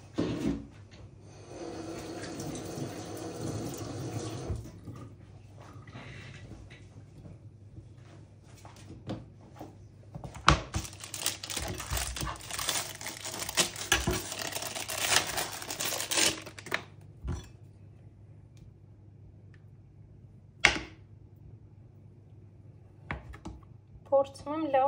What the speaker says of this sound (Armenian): Փորձում եմ լավ բարակ կտրել։